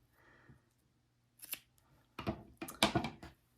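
Scissors snip through the loose ends of crochet yarn while a tassel is trimmed: a few quiet clicks early on, then a cluster of sharp, close cutting snaps in quick succession near the end.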